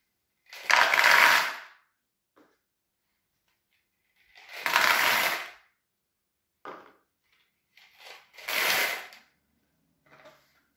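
Candy pours in three loud rattling bursts into a homemade candy dispenser machine, with short clattering pauses and a few small scattered clicks between pours, nearby and without talk.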